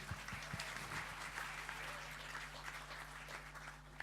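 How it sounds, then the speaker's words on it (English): Faint applause from an audience at a formal event, a dense soft patter of clapping over a steady low electrical hum, even in level from start to finish. "Let's give her a round of applause."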